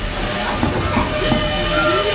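A Tweetsie Railroad train rolls along with a steady, continuous rumble and hiss, faint metallic squeals riding over the noise.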